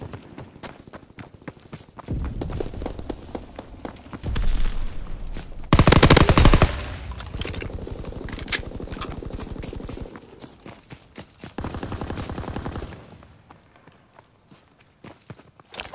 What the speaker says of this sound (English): Come on, we there it is again, that fucking shotgun